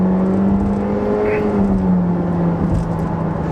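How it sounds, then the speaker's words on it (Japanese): Honda ZR-V Z-grade turbo engine accelerating hard in second gear from about 4000 rpm, a steady rising engine drone with road noise, heard from inside the cabin. "2速4000回転、この辺から踏んでみますね。"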